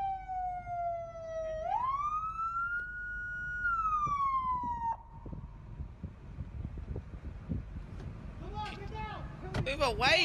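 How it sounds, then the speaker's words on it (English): A police car siren wails loud and close for about five seconds, its pitch climbing and falling before cutting off abruptly, followed by commotion and shouting voices. "he takes his time to turn off the siren"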